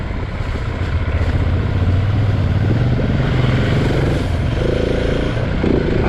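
A Husqvarna 701 dirt bike with its 700cc single-cylinder four-stroke engine drones steadily while riding, a loud continuous engine note that rises slightly in pitch midway, with no voices.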